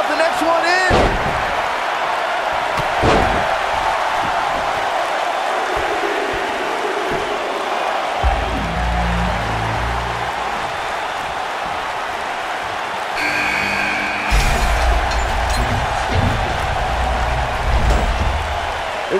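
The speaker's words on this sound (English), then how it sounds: "Listen to this crowd count the next one in." Wrestling arena crowd in the video game WWE 2K19 during an Elimination Chamber match, with loud impacts and slams over steady crowd roar, while a commentator talks throughout.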